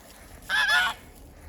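A single goose gives a short, sharp honk nearby against a quiet background on a village farm.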